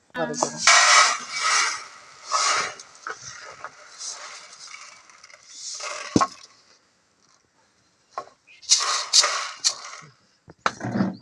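Roasted urad dal tipped out of a hot pan onto a plate to cool, giving close, fairly loud dry rattling and crackling pours in a few bursts, with pauses and some talk in between.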